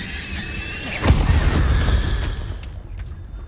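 An Incendio fire spell from the Hogwarts Legacy video game bursts with a sudden deep boom about a second in, followed by a rumbling, crackling tail that slowly fades, loud and close.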